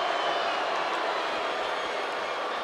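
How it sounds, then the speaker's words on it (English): A wrestling arena crowd in the WWE 2K24 video game roars in a steady, dense wash of cheering that stays loud and even throughout, with no distinct voices standing out. "Listen to this crowd."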